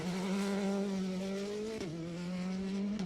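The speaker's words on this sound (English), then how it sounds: "Michael just hit that handbrake then, and he drifted a little bit wider than I thought he was going to" A rally car on a circuit stage drifting wide through a hairpin after a handbrake turn, its engine droning loud and steady close by, with a brief dip and shift in pitch as the car swings through the corner.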